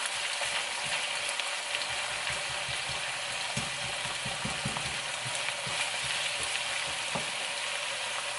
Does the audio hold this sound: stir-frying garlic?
yes